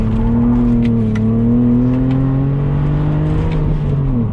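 A BMW Z4's engine pulls hard in second gear, a loud, steady rising drone with clear harmonic tones heard from inside the car, easing slightly near the end.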